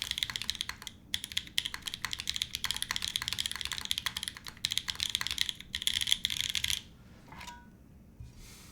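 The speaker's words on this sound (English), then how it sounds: "I know I'm typing nothing" Rapid, close typing on a custom-built Type-K mechanical keyboard with a polycarbonate case produces a dense clatter of bright key clicks that stops abruptly near the end, with no speech.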